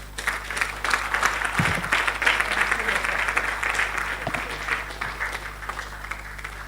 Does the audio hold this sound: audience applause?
yes